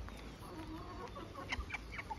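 Hens at feeding time in a backyard flock raised for profit, clucking softly and intermittently alongside faint ambient noise, with a few brief sharper calls near the end.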